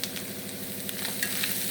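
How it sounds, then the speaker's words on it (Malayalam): Crushed ginger frying in hot oil, a close, steady crackling sizzle that holds evenly for a couple of seconds with no talking. "അപ്പോൾ ഇഞ്ചി ഞാൻ വറുക്കാൻ ഇട്ടിട്ടുണ്ട്."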